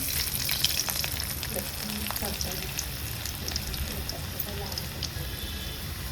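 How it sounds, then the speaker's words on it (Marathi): Garlic and asafoetida sizzle and fry in hot oil for a Marathi kardai bhaji, a steady close crackling hiss with scattered pops running throughout. "तेलामध्ये हिंग टाकते आता मी लसूण टाकते"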